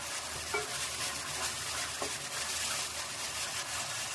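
Onion, tomato, turmeric and curry-leaf masala for crab curry sizzles steadily in a pan as it is sautéed, a continuous hiss with a couple of soft stirring scrapes and no speech.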